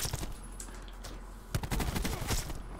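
Video game gunshots crack out in several sharp, loud bursts, close and clustered, with a few quieter shots in between.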